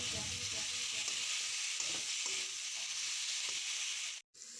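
Potatoes and capsicum with spices sizzle steadily in a pan, a bright, even hiss with soft scraping from stirring underneath, close up, cutting out briefly just before the end.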